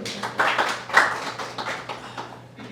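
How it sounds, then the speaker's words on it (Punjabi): Audience at a Punjabi poetry gathering (kavi darbar) in Fresno gives a short burst of applause, close, uneven hand claps that peak early then thin out. "ਇੱਕ ਵਾਰ ਫੇਰ ਤਾੜੀਆਂ ਦੇ ਵਿੱਚ ਬਾਈ ਸੁਖੀ ਤਾੜੀ ਮਾਰ"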